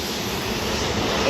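An airplane landing at Hollywood Burbank Airport makes a steady, loud engine roar that swells slightly toward the end.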